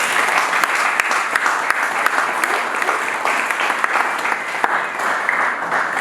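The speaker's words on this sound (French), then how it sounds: "Acclamons pour notre Seigneur" Worshippers in a church break into sustained applause, a thick, even wash of clapping with sharp individual claps standing out throughout six seconds.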